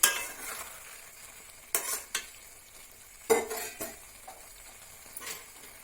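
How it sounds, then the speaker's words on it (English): Fried cauliflower stirred into gravy in a pan over a low flame for gobi Manchurian, with a spoon scraping and clanking against metal in a few distinct strokes over a faint sizzle. "So give it a nice stir"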